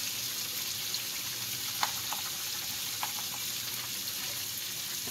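Biryani seasoning cooking over high heat in a hot pan, a steady, even sizzle with faint scattered pops and clicks, no voices.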